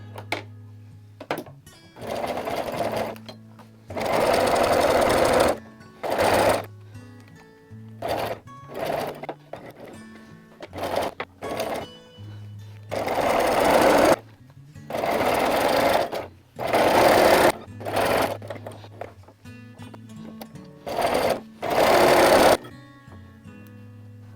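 A sewing machine stitching a quarter-inch seam on a quilt facing, running in loud whirring bursts of a second or two separated by pauses, with small clicks from the presser foot being lifted between runs.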